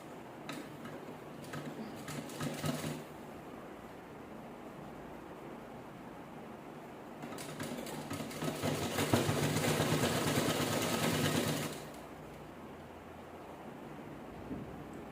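Sewing machine stitching a fabric laptop cover, turned on a triangular corner; two bursts of rapid ticking stitches, a short one early and a longer, louder run in the middle, with quiet gaps between.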